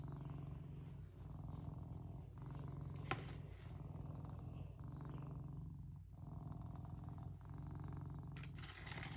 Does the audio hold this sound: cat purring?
yes